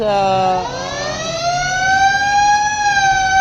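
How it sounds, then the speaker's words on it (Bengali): Passenger launch ferry arriving at Barisal launch terminal, sounding a long loud horn with a rising, wavering tone that sustains for several seconds, close and dominant. "একটা লঞ্চ আসলো বাবা, এই যে একটা লঞ্চ"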